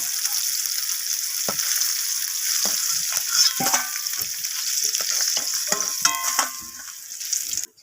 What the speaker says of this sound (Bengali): মাছগুলোকে লালচে করে ভেজে নেব